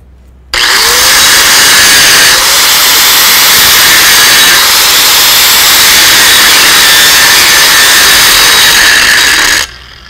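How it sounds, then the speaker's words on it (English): An angle grinder grinds down the leading edge of a stick weld on steel plate, a loud continuous high-pitched whine that starts abruptly, holds steady for about nine seconds and then cuts off. "I'm gonna grind the leading edge of my weld right here so we can tie back in"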